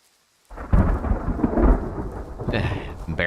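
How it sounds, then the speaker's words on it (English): A loud rolling thunderclap crashes in after a brief silence and rumbles on amid rain during a storm in the hunting game Way of the Hunter. "That thunder is super loud."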